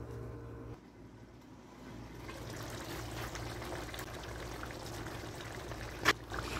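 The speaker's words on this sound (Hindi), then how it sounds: "हम इसके अंदर 3 glass पानी की ऐड करेंगे" Water poured from a glass into a pot of cooking mutton for dum gosht, a steady low pouring wash building over several seconds with a brief louder splash near the end.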